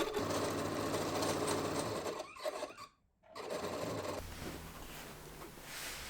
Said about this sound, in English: Continue to stitch all the shirred lines on the front and back pieces